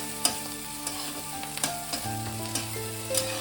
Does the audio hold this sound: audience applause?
no